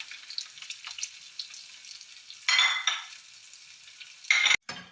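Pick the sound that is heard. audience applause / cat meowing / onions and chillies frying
onions and chillies frying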